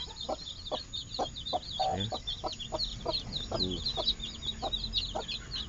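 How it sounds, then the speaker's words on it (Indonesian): A frizzle hen, a rare local breed with reversed feathers, clucks in short repeated calls close by, with chicks peeping faintly and a voice speaking briefly in the background. "Ayam bulu terbalik, ya. Manuk bulu terbalik."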